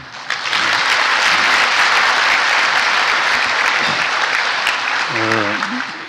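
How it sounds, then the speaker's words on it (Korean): A church congregation applauds its choir with sustained, dense clapping that fills the whole stretch, and a voice briefly speaks over it near the end. "한번 뜨겁게 한번 박수 한번 하겠습니다"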